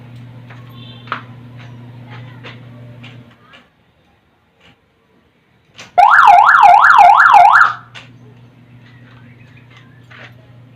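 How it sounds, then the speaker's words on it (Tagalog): Homemade motorcycle alarm system sounding, a loud warbling siren burst of about two seconds rising and falling rapidly, set between stretches of low engine hum and faint clicks. "gumana kagad yung ating alarm system once na mag-neutral ako"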